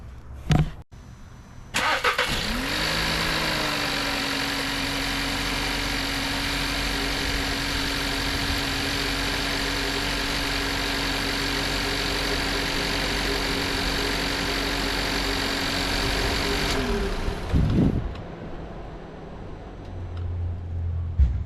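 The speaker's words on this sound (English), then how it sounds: "I'm gonna start this car up" A 2016 Volkswagen Jetta engine cranks and catches, then settles into a steady mid-pitched idle for about fifteen seconds before shutting off, close and clear with no talk.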